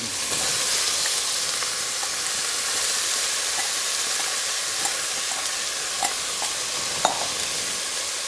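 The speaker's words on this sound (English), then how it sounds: "I'm gonna drop in my ground beef" Ground beef and chopped onion sizzle in a pot for stuffed cabbage soup. A steady, bright frying hiss fills the stretch, with a few small pops and crackles near the end.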